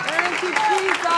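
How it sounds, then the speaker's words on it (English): Church congregation clapping hands during a sermon, dense steady clapping mixed with voices calling out and talking over it. "Clap your hands unto that."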